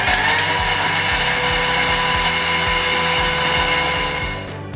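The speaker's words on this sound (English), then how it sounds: "I still get wowed by this process of milling sugar." A Thermomix mills sugar at speed 10, giving a loud continuous high whirring drone with a rapid rattling, ticking pulse from the granules hitting the blades, easing off slightly at the end.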